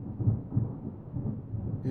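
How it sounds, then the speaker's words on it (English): Low thunder rumbles roll through a snowy storm in the video game Deadly Premonition 2, a deep muffled growl that swells twice and fades, heard alone. "Do you hear that thunder?"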